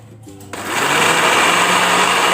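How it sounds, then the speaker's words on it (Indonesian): Kitchen blender whirring as it blends young papaya and pineapple with water, spinning up abruptly from quiet into a steady, loud motor whine that holds to the end. "Setelah ditambahkan air di blender"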